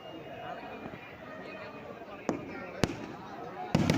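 Fireworks at the St. Sebastian church feast in Athirampuzha, a few sharp distant bangs cutting through a constant murmur of a large crowd.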